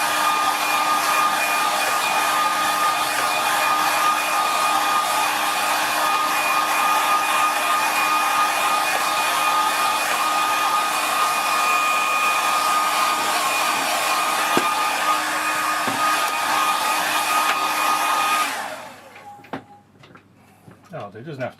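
A hair dryer blows steadily and loudly at close range, drying watercolour paint on an Arizona desert landscape painting, then cuts off near the end, leaving quiet handling noises.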